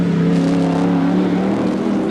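Racing touring cars of about 1,100 kilograms roar around Sandown in a 1988 Australian Touring Car Championship race, a loud, sustained engine drone heard from on board with the pitch sliding slightly as the car runs at speed.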